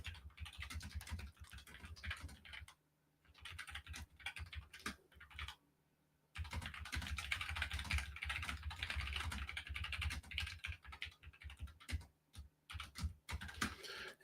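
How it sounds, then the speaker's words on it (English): Someone types on a computer keyboard in quick, steady bursts of close clicking, entering a product requirements document. The typing breaks off in two short silent pauses, and no one speaks. "we're going to type it in here."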